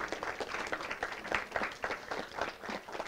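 Audience applause at a volunteer honoring event, a steady burst of many hands clapping at moderate distance for about three seconds, with no voices over it.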